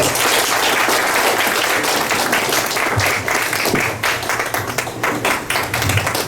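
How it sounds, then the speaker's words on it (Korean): Sustained, dense applause from a workshop audience welcoming a KAIST professor to the lecture podium, a steady broadband roar of many hands clapping throughout with no talk over it. "박수해 주십시오."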